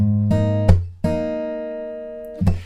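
A guitar riff in a studio style rings out with sustained picked notes and a few sharp percussive attacks, played alone with no voices.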